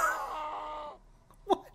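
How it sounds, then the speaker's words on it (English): A creature screams in the Chupacabra Simulator video game, a drawn-out wailing cry that fades within a second, followed by a brief sharp squawk. "G is scream"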